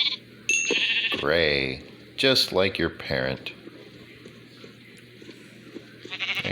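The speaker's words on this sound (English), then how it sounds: "See what kind of sheep I get." Minecraft sheep bleat in a few wavering, close calls alongside someone speaking, with a quiet ambient hum beneath.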